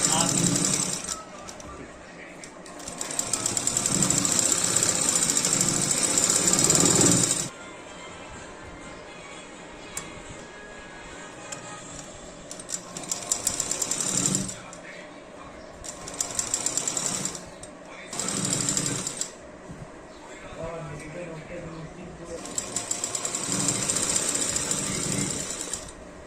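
A sewing machine stitches a young girl's silk pattu langa skirt in loud, sustained bursts of rapid mechanical whirring, separated by quieter pauses while someone talks.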